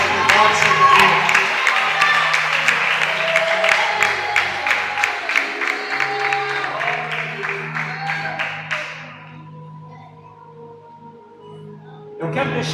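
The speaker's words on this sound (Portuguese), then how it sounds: "E bate a salva de palmas para aquele que reina" Church congregation clapping in a rhythmic, steady beat that gradually fades and stops about two-thirds of the way through, leaving a quiet gap before a sound briefly returns at the end.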